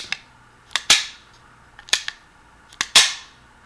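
Three sharp metallic clicks and snaps from a West German SIG P226 pistol's decocking lever, each pair coming about a second apart, crisp and close with quiet in between.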